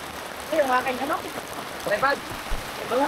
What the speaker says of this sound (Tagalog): Bakit umulan?